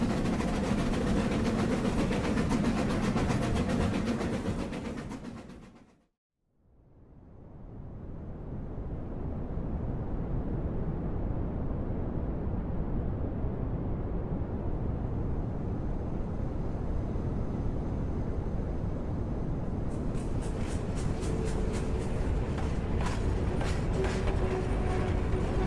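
Train rolling steadily along railroad tracks near a rail yard, a dense continuous rumble and rattle that briefly drops out, then returns with faint rhythmic clicks, no voices.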